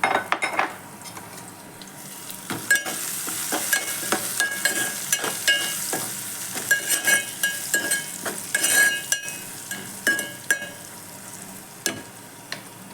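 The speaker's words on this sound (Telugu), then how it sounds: "ఇప్పుడు పసుపు, హాఫ్ టీ స్పూన్ ఇది సాల్ట్ అండి, ఆనియన్స్ కొంచెం మెత్తబట్టడానికి." Onions frying in a pan with turmeric and salt for a meal-maker curry, a constant sizzle broken by repeated scraping and clinks of a spoon stirring against the pan, close and clear with no talk.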